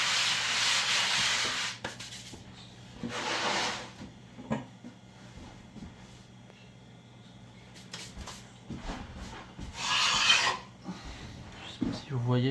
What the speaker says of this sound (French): je farine un petit peu ma planche